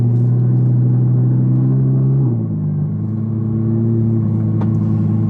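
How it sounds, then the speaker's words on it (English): An Audi R8 supercar with a valved Quicksilver exhaust, valves shut, idles and cruises with a loud, steady low engine drone, its pitch dipping slightly midway, on a wet road with no talking. "It is a Quicksilver exhaust, which is valved, and the valves are shut. It's ridiculously loud."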